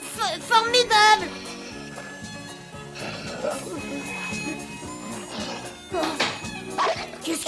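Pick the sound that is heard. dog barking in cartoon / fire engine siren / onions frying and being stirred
dog barking in cartoon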